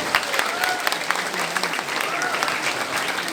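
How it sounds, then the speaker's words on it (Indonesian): Applause fills a pavilion at a madrasa graduation ceremony in Indramayu, a sustained crowd clapping with a few scattered voices and faint background calls underneath. "Tepuk tangannya."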